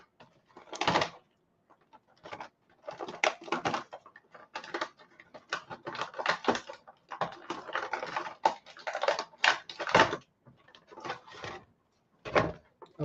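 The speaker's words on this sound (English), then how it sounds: "Lots of crinkly noises." Plastic packaging being crinkled and torn while an action figure is unboxed, a run of close, irregular bursts of crackling with short pauses between handlings.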